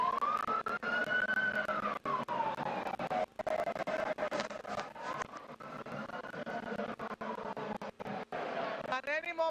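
Police outrider sirens wail in rising and falling sweeps at a presidential inauguration square, loud and steady, with a person talking over them throughout.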